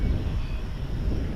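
American Airlines Boeing 737-800 airliner at Dallas/Fort Worth International Airport, a steady loud roar of jet engines rumbling close by without a break.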